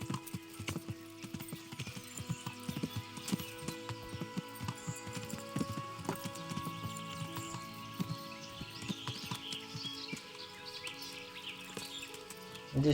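Horse hooves clip-clopping in the video game Kingdom Come: Deliverance, a steady run of hoofbeats with an occasional whinny and faint birdsong in the background.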